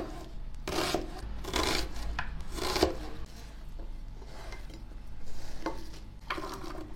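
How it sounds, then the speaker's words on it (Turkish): Three medium dry onions are sliced on a board for a pepper bread filling, giving repeated rasping, scraping knife strokes in uneven bursts, close and fairly quiet, with no talk. "Biberli ekmeğimizin iç malzemesi için 3 adet orta boy kuru soğanı yemeklik doğrayacağım."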